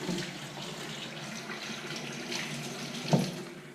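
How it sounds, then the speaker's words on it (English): Crayfish tail being rinsed under a running kitchen tap, a soft steady hiss of flowing water with one brief splash near the end, faint and close. "the crayfish tail, which you simply just rinse under the water."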